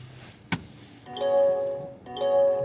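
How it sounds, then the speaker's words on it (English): Startup warning chimes from a 2025 Mazda CX-50 base model: a soft click, then two bright electronic tone sequences about a second apart, clear and close inside the cabin. "Let the chiming get out of the way."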